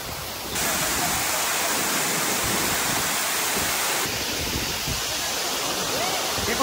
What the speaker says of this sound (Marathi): धबधब्याला आल्यात भिजायला.